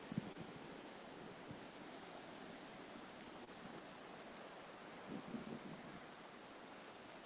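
Faint, steady sea waves wash on the shore in a broad, distant rush with a few soft splashes and no voices.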